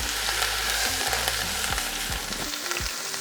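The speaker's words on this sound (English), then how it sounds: "I threw in a little bit of avocado oil, and let's get this browned up on both sides" A beef roast browning in avocado oil in an Instant Pot on its highest sauté setting, sizzling loudly and steadily, with a low hum that cuts out near the end while the crackle continues.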